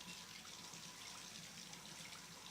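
Hot, steamy water runs steadily into a bath, a continuous soft hiss of flow with no breaks, heard alone.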